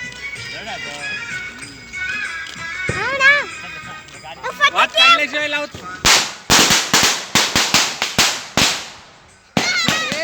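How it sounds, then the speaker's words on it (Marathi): Excited voices and shouting at a Ganesh festival procession give way to a rapid, loud string of firecracker bangs cracking one after another. "फटाके आहेत फटाके समोर बघ"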